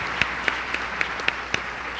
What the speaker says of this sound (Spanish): Vamos a darle un fuerte aplauso, por favor.